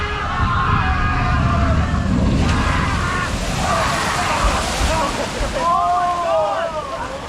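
Water rushes and sloshes steadily around a theme park water ride at Emerald Park in the Irish countryside, a loud continuous wash with splashing surges. Voices and shouting carry over the spray.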